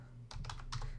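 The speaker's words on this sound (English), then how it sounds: "So let's go ahead and type" A few quick, light keystrokes tapped on a computer keyboard, faint and close, over a low steady hum.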